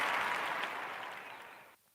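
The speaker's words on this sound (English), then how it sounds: "I appreciate the applause as I have some more of my brandy here." Applause from a small audience fills the moment at an awards-style show, steady clapping that gradually fades and then cuts off.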